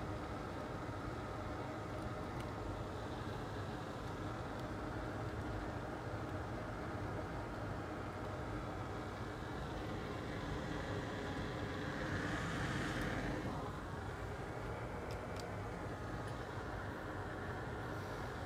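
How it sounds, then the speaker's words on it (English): Cooling fan of a 2011 MacBook Pro spinning steadily, a faint, constant whirring hum that holds an even level throughout with no rise and fall, nearby and alone without any talk. "Okay, so the fan is spinning now"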